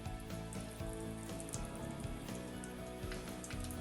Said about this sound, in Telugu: ఆవాలు చిట్టుపట్లాడుతున్నాయి.